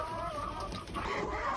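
A hen clucks beside an egg-laying box in a poultry coop, with steady bird calls and farmyard noise close by and no speech.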